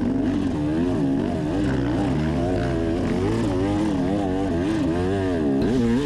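Dirt bike bogging down in a muddy hole on a high-school race track, its engine droning loudly and continuously close by, the pitch wavering up and down as the throttle strains to pull it free.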